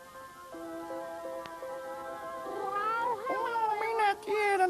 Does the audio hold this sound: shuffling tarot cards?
no